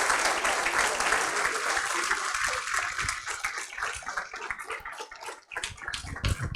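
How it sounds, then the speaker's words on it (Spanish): A crowd at a marketing conference applauds loudly and continuously, the clapping thinning into scattered claps near the end. "Aplauso fuerte, fuerte."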